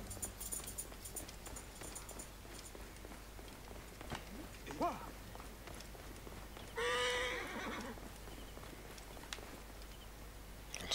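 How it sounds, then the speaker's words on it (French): A horse whinnies twice in the video game Assassin's Creed Origins, short and fairly distant, over quiet background noise with faint clip-clopping hooves. "Un cheval."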